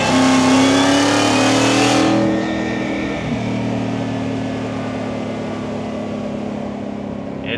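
A 2020 Ford F-150 Lariat, Factory-Five XTF build, in third gear in manual mode, its engine droning loudly with a rising tone at first, then easing into a steady lower hum as the truck rolls on.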